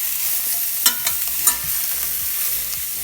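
Steak frying in a hot pan hisses with a steady bright sizzle, broken by a few sharp crackles and pops as it is lifted and checked with a fork.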